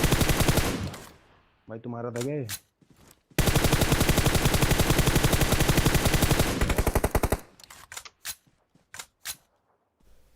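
Gunfire in the mobile battle royale game PUBG Mobile: long sustained bursts of rapid automatic fire, loud and close, broken by short pauses and a few single shots, with a brief spoken line in between.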